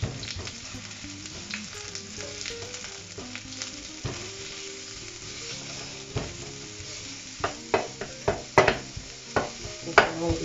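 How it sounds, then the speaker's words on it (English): Chopped onions browning in a hot, oiled pan: a steady close sizzle runs throughout, with sharp clinks and scrapes of a utensil against the pan growing louder toward the end. "I'm gonna start off by browning my onions."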